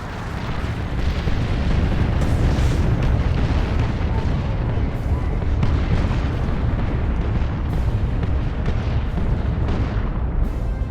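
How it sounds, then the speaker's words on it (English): Artillery strike explosions in Dawn of War II Chaos Rising roll on continuously as heavy, rumbling booms and bursts, loud and dense throughout with no pause. "Incoming artillery strike! Clear the target area!"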